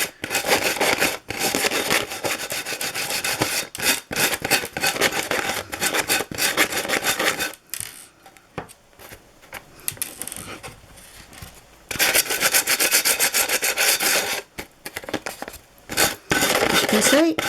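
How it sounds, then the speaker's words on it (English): An ordinary emery board rasps against the edge of rice paper laid on glass, loud and close in long stretches of steady scrubbing, with a quieter pause in the middle before the rubbing resumes. "you can do this with an emery board, ordinary emery board"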